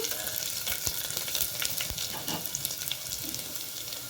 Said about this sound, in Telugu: ఇప్పుడు ఇందులోకి నేను చిన్నగా చాప్ చేసుకున్న అల్లం ముక్కలు వేస్తున్నానండి.